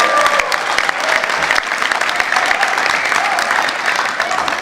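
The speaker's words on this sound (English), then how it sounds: "let's hear it for David Knuckles and what he accomplished" Sustained audience applause at a surfing tribute, dense clapping from a crowd continuing steadily throughout, loud and close with no break.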